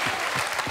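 Studio audience applauding the teachers of the French TV show Star Academy, a brief burst of dense, steady clapping filling the hall.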